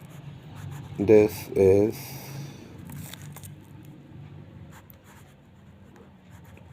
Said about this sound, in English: Let's do the writing sample and let me talk about how does it write basically.